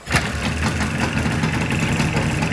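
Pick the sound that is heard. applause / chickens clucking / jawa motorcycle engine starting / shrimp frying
jawa motorcycle engine starting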